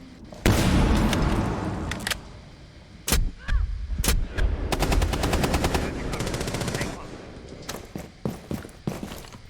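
Gunfire in the video game Rainbow Six Siege: loud single shots and sharp, rapid automatic bursts crackle close by in an uneven rhythm, with scattered shots trailing off at the end.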